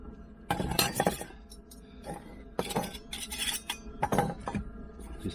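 Metal parts of a wood gasification camping stove, its basket and pot stand, clink and clatter as they are handled and fitted together, sounding in close, bright bursts separated by short pauses.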